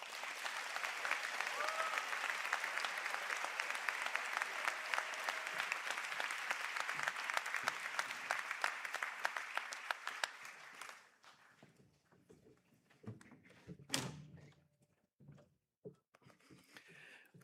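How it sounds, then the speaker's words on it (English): Graduates are applauded by a large hall audience at a university conferring ceremony: dense, sustained applause for about ten seconds, then scattered claps fading into quiet room noise with a brief thump. "I ask the graduates of the Bachelor of Business in Marketing, Bachelor of Business Honours in Marketing, Postgraduate Diploma in Science and Marketing, and Master of Science in Marketing to stand for a round of applause."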